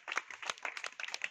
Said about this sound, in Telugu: అమ్మ మీరు క్లాప్స్ కొట్టండి అమ్మ